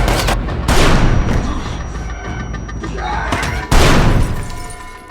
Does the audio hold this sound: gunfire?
yes